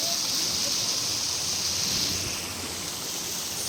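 Steady, broad rush of falling water from a waterfall in a forest, continuous and fairly loud, with no distinct breaks.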